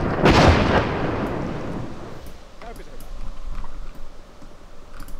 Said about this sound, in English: I think it's time to call in artillery.